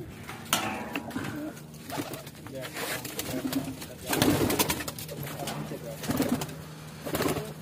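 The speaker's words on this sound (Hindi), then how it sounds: "ये 25 कबूतर ब्रीडर हैं जी इनके" Several pigeons coo in low, throaty bursts close by, with bird calls and flapping among them and a voice talking over parts of it.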